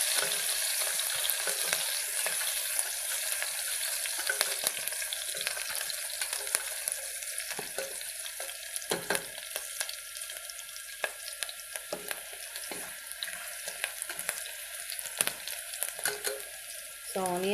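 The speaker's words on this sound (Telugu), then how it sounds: "సో ఈ ఆనియన్స్ బాగా ఫ్రై చేసుకోవాలి" Onions fry in a pan with a constant, bright, close sizzle that persists throughout, broken by occasional stirring scrapes.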